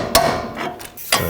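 Hammer blows drive a part into the rear upper control arm of a 2007-2009 Saturn Aura during a suspension repair; two sharp, close metallic strikes about a second apart over a quiet background.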